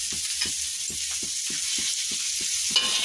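Bitter gourd with mustard, onion and chilli paste sizzles in a hot pan while a spatula stirs in steady, evenly spaced scrapes, close and clear with no talking.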